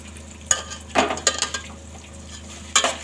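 Masala rice with chopped coriander is stirred in a pot, with a handful of scattered scrapes and clinks of a spoon against metal over a quiet background.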